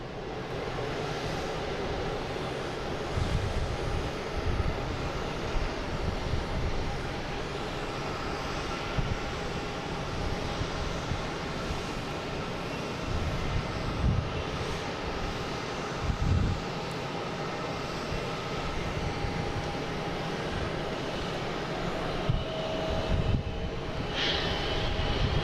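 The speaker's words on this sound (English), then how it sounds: "we have a Porter taking off on 4" A Porter airliner takes off on runway 4 at an airport, producing a sustained broadband engine roar at moderate distance with a few brief louder bursts layered over the steady rumble.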